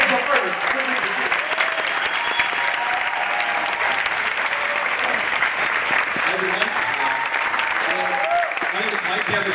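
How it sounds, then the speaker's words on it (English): Loud, sustained applause from a large audience at a sales gathering honoring top income earners, a dense continuous roar of clapping with cheering voices mixed through it. "Give me a round of applause, welcome all of our big figure income earners."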